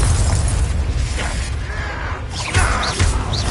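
A Confringo fire spell blast in Hogwarts Legacy erupts amid game combat with dense booming bursts, a rumbling low end and brief sharper crackles.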